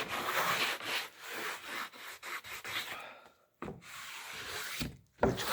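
A cloth rubs excess wood stain off a wooden board for a rustic wall in a series of dry, scratchy back-and-forth strokes, close and fairly quiet, with brief pauses between passes.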